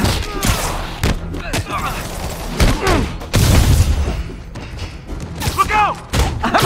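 Rapid bursts of gunfire and heavy thuds in the Marvel's Spider-Man video game, loud and close in irregular clusters, with voices calling out between and over the shots.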